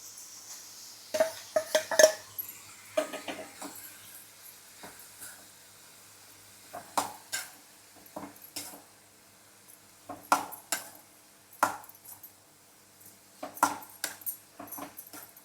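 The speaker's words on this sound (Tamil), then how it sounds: "அப்படியே ஒரு நிமிஷம் வதக்குங்க தேங்காய் போட்டுட்டு." Spatula clinks and scrapes against a pan now and then while a ground coconut, green chili and cumin paste is stirred for a carrot and beans poriyal, with only a faint hiss under the quiet, intermittent clatter.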